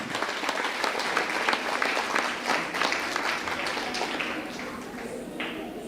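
Steady applause from a crowd at an Indian felicitation ceremony honouring an achiever, continuous dense clapping held at an even level throughout with no talk over it.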